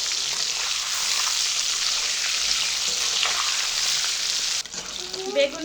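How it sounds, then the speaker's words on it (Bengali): Brinjal slices fry steadily in a pan, giving a dense, continuous crackling sizzle throughout. The sizzle cuts out sharply near the end and gives way to a few faint clinks and a brief soft tonal sound. "বেগুন ভাজা হয়ে গেছে, তুলে নেব।"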